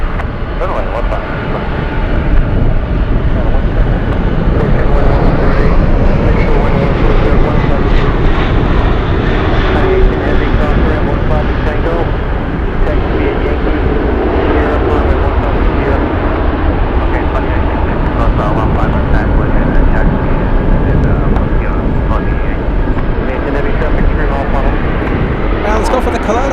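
A cargo aircraft roars loudly and steadily while landing on runway 15 at Anchorage in gusty wind, with continuous engine noise and rumble throughout and a voice talking over it.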